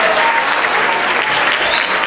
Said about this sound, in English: Let's give him a wave and a clap